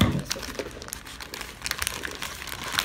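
Scissors cutting open plastic toy packaging during an unboxing, a close run of crinkling, snipping and crackling plastic with uneven bursts and brief pauses.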